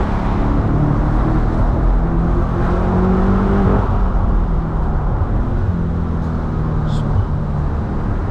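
A BMW M8 Competition driving fast gives a steady, loud engine drone with road and wind roar, holding even throughout with a few pitch shifts as it accelerates.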